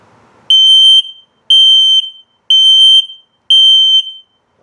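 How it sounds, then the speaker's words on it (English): A detector in a 2021 Crossroads Redwood RV gives a low battery alert of four loud, piercing electronic beeps at an even pace, each about half a second long with short silences between. "And now low battery alert."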